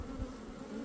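Dense, steady buzzing of many honeybees at an open, crowded beehive during an inspection, close and continuous with no talk.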